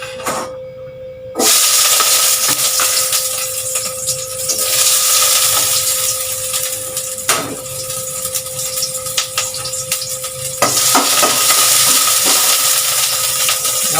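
Ginger sizzles in very hot oil in a cooking pot, a loud, continuous frying hiss that starts abruptly after a brief quieter moment and keeps going, with a few small pops and a steady tone underneath.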